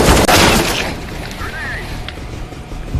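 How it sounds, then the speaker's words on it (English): A flashbang grenade goes off in a video game with a sharp booming burst at the start that decays into a rumbling tail, followed by quieter game sounds. "Grenade."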